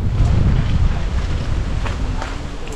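Strong wind gusts along an island shore, buffeting the microphone with a loud low rumble that eases slightly toward the end, with the wash of sea in the background.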